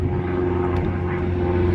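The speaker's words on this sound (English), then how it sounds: "let me just wait for that plane to pass over." A plane passes overhead near a moored boat, a steady broadband engine drone with low harmonic hum, fairly loud and continuous with no speech.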